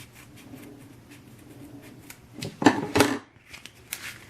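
Scissors cut through a measured piece of material for a Kamen Rider belt mod, a few close crisp snips clustered in the middle of an otherwise quiet stretch.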